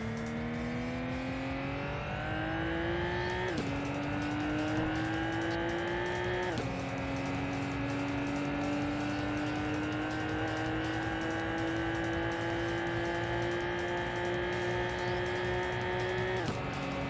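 Nissan Skyline R34 engine in a racing video game, revving hard through a long acceleration run with rising pitch and a few quick gear-change dips, steady and loud throughout with no voices.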